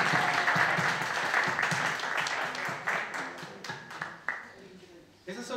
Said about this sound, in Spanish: De parte de todos los hijos, un aplauso para ustedes.